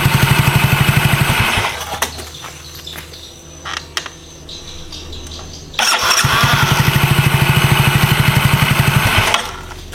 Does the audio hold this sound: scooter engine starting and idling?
yes